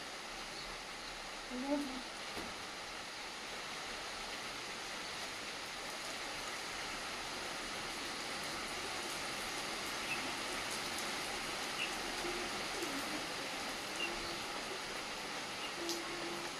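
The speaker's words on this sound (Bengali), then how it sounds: "এক্ষুনি টানা রোদ্দুর আবার এক্ষুনি বৃষ্টিটা এসে গেল" Steady rain falls continuously, a soft even hiss of drops on surfaces with no breaks, moderately loud and close, with a brief murmur of voice early on.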